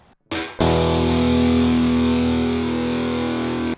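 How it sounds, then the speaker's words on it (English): Electric guitar played through reverb followed by a chorus pedal, a single sustained distorted chord ringing loud and steady after a brief pick noise, with a shimmering modulated tail and no talking. "I'm gonna throw on my chorus pedal."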